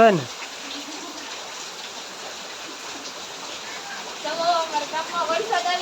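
Steady rain hisses in the background while people talk briefly at the start and again near the end.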